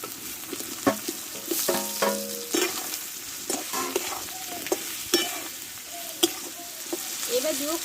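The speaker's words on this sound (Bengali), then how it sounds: "এবার কষে রাখা আলু পটল ভেজে দিয়ে দেবো আমি" Fried potatoes and pointed gourd are stirred into a spiced masala in a pan, making a steady sizzle broken by irregular scraping and clattering stirs, close up and without talking.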